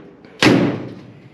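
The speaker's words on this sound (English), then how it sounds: "Doors close." A 1957 GMC truck door swings shut with a single loud, close slam, a sharp metallic thud that rings briefly and fades.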